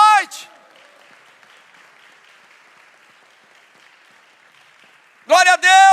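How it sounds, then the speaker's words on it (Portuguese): Church congregation applauding during an evening worship service, a steady soft wash of clapping that runs for several seconds between bursts of loud speech at the start and end. "Aplauda o Senhor essa noite."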